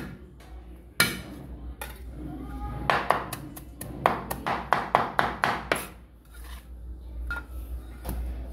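Dried shallots and garlic are crushed and chopped with a knife on a cutting board, giving a loud single whack followed by a rapid run of sharp, close chopping strikes, then a few scattered taps.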